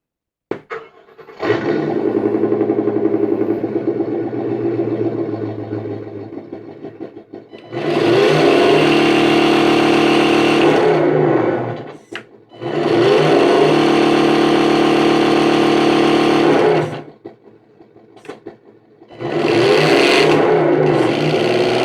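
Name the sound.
Tamiya Toyota Tundra RC model truck motor running during test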